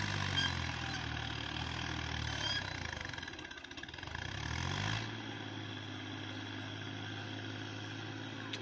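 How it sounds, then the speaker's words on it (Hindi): Tractor engine hauling church construction material up a steep hillside road, a steady mid-pitched diesel drone with a brief dip and surge as it labours, fairly faint and heard alone. "और ये ट्रैक्टर जो है ना इस टाइम मुश्किल का शिकार है।"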